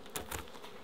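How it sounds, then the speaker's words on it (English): Honey bees buzzing around a wooden bee box in mallee country, a faint brief close buzz with a couple of wingbeat swells. "So if there's a couple of bees hiding in here"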